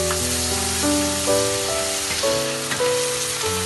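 Ginger garlic paste sizzles and crackles in a hot pan with a steady, even hiss that runs the whole time, joined by occasional stirring, while background music plays over it and no one speaks.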